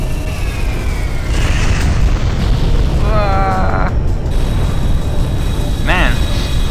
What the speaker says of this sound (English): This thing's going to make a big explosion.